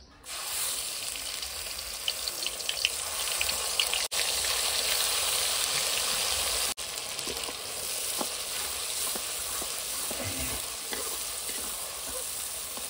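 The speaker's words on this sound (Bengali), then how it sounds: "এরপরে দেবো আমি একটা বড় দেখে পেঁয়াজ বাটা" Onion paste frying in oil with cinnamon in a pan after fish has been fried for a Bengali katla fish kalia, a loud dense hiss and sizzle with faint stirring knocks, steady throughout.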